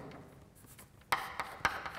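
Hand-writing equations: a soft rub of strokes, then a few sharp separate taps and scratches of the pen or marker close by, alone without talk.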